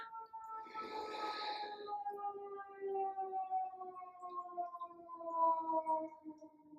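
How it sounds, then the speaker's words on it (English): City sirens wail in the distance, their tones sliding and overlapping over a quiet background for several seconds. "Love the sirens."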